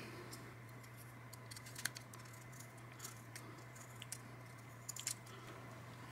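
A hobby knife cutting into a plastic DJI FPV camera housing near its clip retainers, faint scratchy scraping with a few small sharp clicks and crunches over a steady low hum, no talk.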